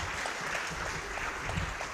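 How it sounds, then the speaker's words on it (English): A conference audience at a national CSO convention claps steadily in a dense, continuous round of applause, heard from a moderate distance without speech. "I would like to invite you to give these extremely brilliant people a very, very big round of applause."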